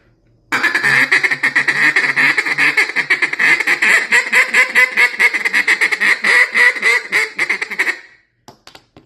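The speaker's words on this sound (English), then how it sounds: "to do the feed chuckle, which I prefer a feed chuckle on a cut down versus a J-frame" A feed chuckle blown on a cut down duck call, a loud, rapid run of rolling quacking notes held close for about eight seconds before stopping abruptly.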